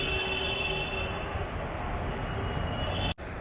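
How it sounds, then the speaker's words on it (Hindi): WAP1 electric locomotive being coupled to the Barauni–Lucknow Express at a station, a steady loud rumble of rail machinery and idling equipment with a faint hum, continuous throughout before a brief sudden drop near the end. "बरौनी लखनऊ एक्सप्रेस लोको लगाया जा रहा है WAP1।"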